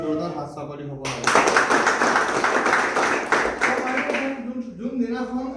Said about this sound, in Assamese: তেখেতৰ কাৰণে জোৰদাৰ হাত চাপৰি হ'ব লাগে